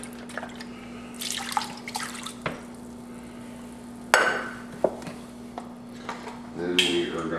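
Beef broth poured over a roast in a crock pot makes splashy pouring and dripping sounds in short bursts, with a faint steady hum underneath.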